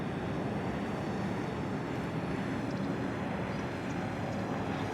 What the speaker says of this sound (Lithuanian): Ir dronas nuskrenda.